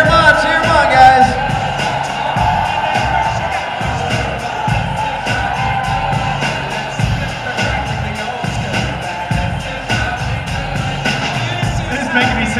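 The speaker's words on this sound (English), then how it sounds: "Cheer them on, guys." A crowd at a Fan Fest wing eating contest whoops, shouts and cheers in a steady, dense roar that carries on throughout, with voices calling out and occasional thuds mixed in.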